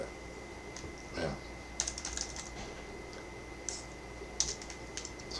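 A web address typed on a computer keyboard, a few quick bursts of crisp key clicks separated by pauses, close and fairly quiet, with no talking.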